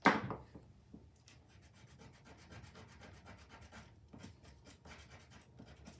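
A soft, steady scratchy rubbing of a sand eraser on a paper card, quiet and close, with short repeated strokes after a brief knock at the start.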